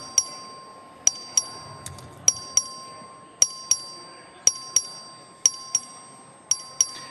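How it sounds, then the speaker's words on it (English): Bell struck by the clerk to call a record vote in the Texas House chamber: about a dozen sharp, ringing dings, often in pairs, spaced roughly a second apart over a quiet room hum. "The clerk will ring the bell."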